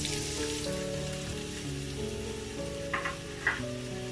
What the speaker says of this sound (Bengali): এখন দিয়ে দিব 1 কাপের মতো পেঁয়াজ কুচি আর 5-6টা কাঁচামরিচ ফালি দিয়ে দিচ্ছি।